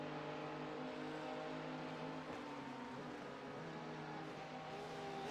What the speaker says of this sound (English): So is a red LMP2 now passing you?